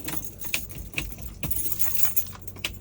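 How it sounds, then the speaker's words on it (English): A bunch of truck keys jangles in several short metallic bursts close to the microphone, with quiet background rumble between the shakes. "Guess I'll just take all the keys with me."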